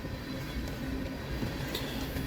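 Freight train on the CSX Grand Rapids subdivision going by, a continuous loud rolling rumble with light rail clatter throughout and no talking.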